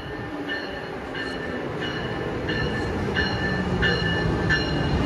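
A train rumbles closer to the Route 128 station on the Northeast Corridor in Massachusetts, steady and loud, with a repeating series of bright chime-like tones ringing over the rolling noise.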